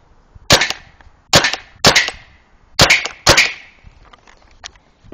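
A Tippmann 98 custom paintball marker fires five sharp, loud pops at close range in irregular succession, each with a brief ringing tail, followed by faint clicks and quiet.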